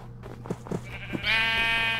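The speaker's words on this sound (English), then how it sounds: "Oh, we have sheep here, so we might as well kill them." Minecraft sheep bleat near the end, a wavering harmonic bleat rising clearly after a few soft thumps and blocky game sounds, fairly close and alone.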